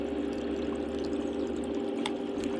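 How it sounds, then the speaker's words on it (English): Paydirt material pours steadily into a gold cleanup sluice, a continuous dense rushing wash of water and gravel with no pauses and no voices. "It's just material going into the cleanup sluice."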